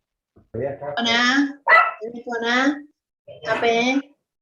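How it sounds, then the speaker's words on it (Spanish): A small dog yaps close by in three high, whiny bursts, with short pauses between them. "Se escucha un perrito, un chaguaí."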